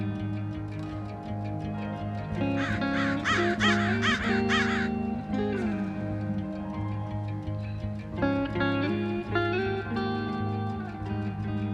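Crows caw in a run of loud, harsh calls up close, a burst of rapid repeated caws followed by a pause and a few more spaced calls, with no talk.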